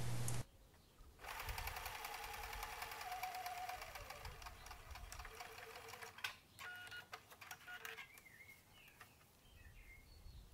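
Domestic sewing machine running a long, steady stitching burst along the side seam of a t-shirt, fairly close, with brief pauses and small clicks near the end; no one talks.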